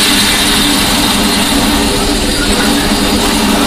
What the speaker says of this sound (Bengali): মেশিনটা চালু হচ্ছে, আমরা একটু দেখি এটা কীভাবে।